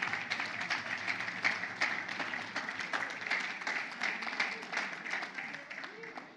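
Church congregation applauding in a dense, continuous wash of clapping with some cheering, steady throughout, voices mixed in the crowd noise.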